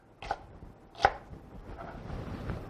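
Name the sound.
chopping serrano peppers with a knife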